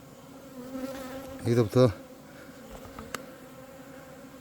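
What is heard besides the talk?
bees buzzing around their hive site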